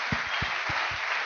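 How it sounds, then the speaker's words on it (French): A church congregation clapping along during a sermon. Four evenly spaced claps sit under a steady hiss of room noise. "Applaudissons fort le Seigneur."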